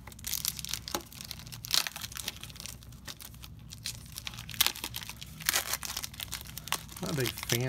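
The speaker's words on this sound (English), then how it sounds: "Not a big fan of the cellophane wrapping." The cellophane wrapping on a 1991 Topps baseball card pack crinkles and tears in irregular close bursts over several seconds, with a voice talking faintly at times.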